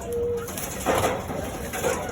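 A pair of old-breed pigeons coo softly nearby, a couple of low throaty calls rising over a quiet background.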